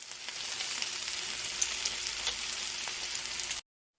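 Food sizzles and crackles steadily in a hot pan for several seconds, a dense hiss that runs without pause before cutting off abruptly near the end.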